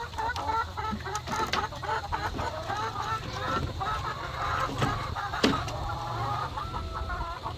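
Hens cluck and murmur around wooden nest boxes in a backyard coop, several birds calling close by in a steady, overlapping chatter with occasional sharper squawks.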